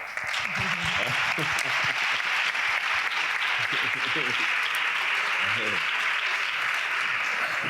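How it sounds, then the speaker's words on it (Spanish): Audience applause during a round-table on conscious eating, loud dense clapping that fills the room continuously, with a few voices murmuring underneath. "Está bien, un aplauso."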